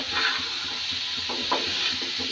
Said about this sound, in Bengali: মশলাটা কষিয়ে নিয়ে এই পর্যায়ে আমি এখানে মাছগুলো দিয়ে দিয়েছি।